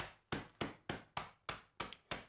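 A meat tenderizer pounds graham crackers inside a bag to crush them fine for a pie crust, landing eight sharp, evenly spaced thuds in a steady rhythm, close by with no talking.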